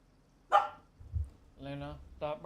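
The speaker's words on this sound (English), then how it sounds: "stop barking." A pet dog barks once sharply close by, then lets out drawn-out whining yelps, with a little background talk.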